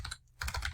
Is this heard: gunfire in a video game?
no